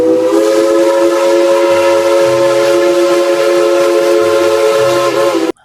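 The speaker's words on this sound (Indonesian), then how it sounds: "Wow, ada kereta Thomas ya." A toy Thomas train plays a loud, close, continuous whistle-like electronic tone with a faint rhythmic rail clatter underneath, then stops abruptly.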